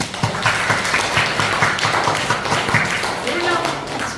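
A church congregation claps together during a Sunday worship service, a fairly loud, even patter of hands with faint rhythmic taps and some background voices mixed in.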